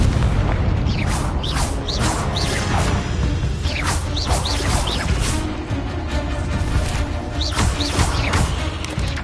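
Booming blasts of the Confringo fire spell in the Hogwarts Legacy video game, loud and continuous, with repeated whooshes and crashing impacts layered throughout.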